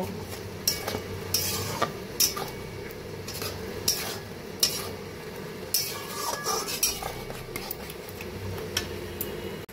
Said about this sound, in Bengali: এবার পটলগুলো ভালো করে মশলার সঙ্গে মিশিয়ে নেব।